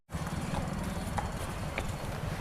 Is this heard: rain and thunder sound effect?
no